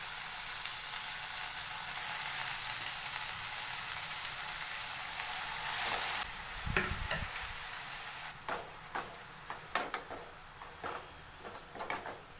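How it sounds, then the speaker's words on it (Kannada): Steady sizzle of a tempering frying in oil that suddenly shifts as leafy greens are added, followed by a series of scraping, clacking stirring strokes. "ಇವಾಗ ಒಗ್ಗರಣೆ ಚೆನ್ನಾಗಿ ಬೆಂದಿದೆ ಇವಾಗ ಇದಕ್ಕೇನೆ ಸೊಪ್ಪು ಹಾಕೋತಾ ಇದ್ದೀನಿ"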